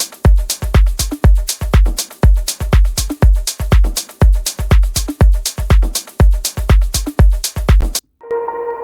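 An organic house drum loop layering shakers and chopped percussion loops drives a steady four-on-the-floor groove with deep punchy kicks and crisp ticking hits, loud and upfront, stopping suddenly near the end.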